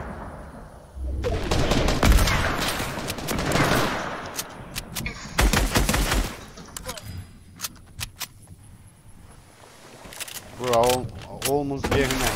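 Bursts of video game gunfire during a squad match, loud broadband volleys near the start and middle with scattered single shots and clatter later, alongside intermittent game and voice chatter.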